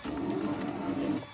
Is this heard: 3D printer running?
yes